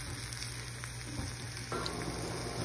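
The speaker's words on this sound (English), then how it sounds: "can fry with my sweet pepper and garlic" Sweet pepper and garlic frying in a pan, a steady close crackling sizzle that thickens slightly partway through.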